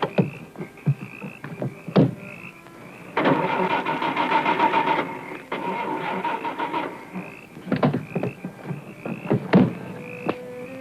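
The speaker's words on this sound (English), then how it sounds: "my car won't start" A car engine failing to start: repeated cranking bursts that churn for a few seconds, stop, then grind again, close and loud, with sharp clicks and knocks in between and no one speaking.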